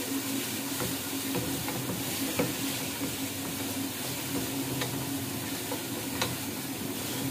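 Ground cumin and chicken keema roast over high heat in a pan, a steady sizzle broken by scraping stirs and small clicks, with no voices.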